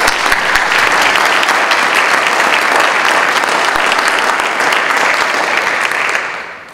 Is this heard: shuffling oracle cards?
no